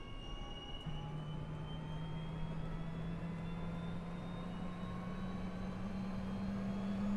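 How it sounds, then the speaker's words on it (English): Cessna Citation CJ4 business jet engine spooling up at startup in a flight simulator, a steady rising whine over a constant roar, sustained and close. "did they update the sounds of the CJ4? That sounds new. The engine start sound."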